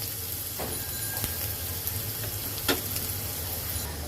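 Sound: onions frying in a pan

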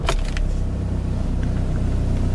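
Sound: 2014 Škoda Octavia VRS engine starting

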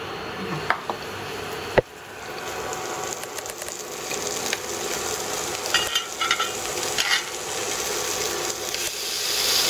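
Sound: streaky pork belly frying to render fat

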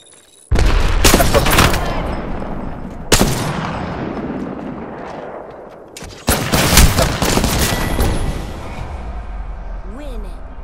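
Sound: frag grenade explosion and gunfire in Apex Legends video game

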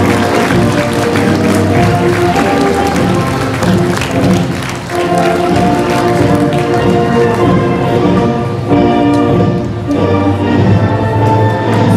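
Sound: applause

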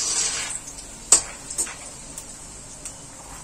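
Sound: peanuts deep frying in oil

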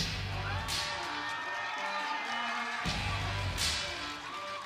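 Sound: crowd cheering as fighter Kim Sang-wook enters the arena

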